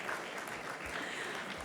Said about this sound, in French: Sous vos applaudissements, parce que sinon il n'ira pas plus loin.